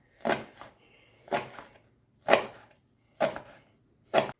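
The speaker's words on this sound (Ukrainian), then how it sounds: "нарізаю зелень" Knife chopping green herbs and green onion on a board for sorrel borscht, five evenly spaced crisp chops, close and clear with no talk.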